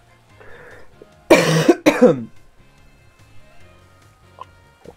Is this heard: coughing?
yes